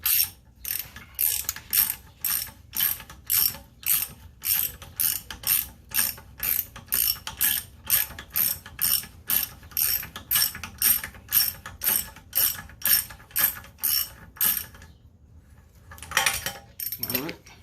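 A socket ratchet clicks in steady, repeated strokes while loosening a 1 1/8 spindle nut on a 1969 Mustang fastback spindle, loud and close, then pauses before a few final clicks.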